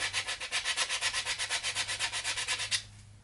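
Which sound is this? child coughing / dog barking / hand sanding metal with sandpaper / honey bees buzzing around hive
hand sanding metal with sandpaper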